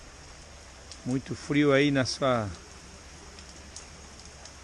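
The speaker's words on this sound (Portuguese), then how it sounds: "frio e chuva, chovendo aí já quase 2 dias aqui em Santa Catarina" Steady rain falls during cold weather in Santa Catarina, Brazil, making a continuous soft hiss that runs under a short spoken phrase from a man.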